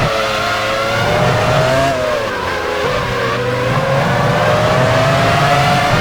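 An F1 race car in the video game F1 Challenge 99-02 drives into the pit lane at Indianapolis during the 2001 US Grand Prix. Its engine whines loudly and continuously throughout, the pitch sliding slowly up and down.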